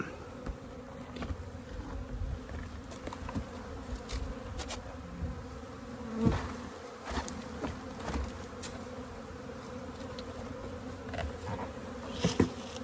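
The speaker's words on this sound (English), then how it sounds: "take the bees that are remaining in the nucleus and give them a shake into the hive" Honeybees from a nucleus colony are shaken into a hive and buzz in a dense, continuous swarm drone, with a few soft knocks and thumps of hive equipment along the way.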